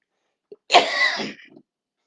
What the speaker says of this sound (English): Don't like this cough.